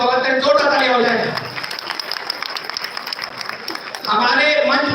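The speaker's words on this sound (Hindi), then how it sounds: "सबके लिए एक बार जोरदार ताली से स्वागत करें" An audience at a One Nation One Election public gathering claps in a burst of applause welcoming guests on stage, heard between stretches of amplified speech at the start and end.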